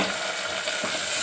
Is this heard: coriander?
yes